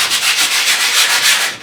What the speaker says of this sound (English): I'll come through here now with my sandpaper, and I will just sand this entire